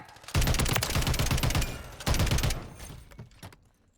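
Rapid automatic gunfire in the video game Modern Warfare 3, two loud sustained bursts of fast rattling shots, the second trailing off into fading echoes, close and dominant.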